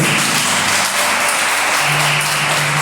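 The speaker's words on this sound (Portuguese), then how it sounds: "Dê um aplauso para a vida do João" Church congregation applauding during a Wednesday worship service, dense continuous clapping filling the room, loud and sustained, with a low hum or musical tone underneath.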